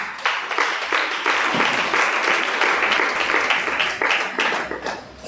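A congregation at an evening teaching service during a Zacharias fast applauds steadily and loudly, dense clapping sustained throughout and tapering slightly at the end.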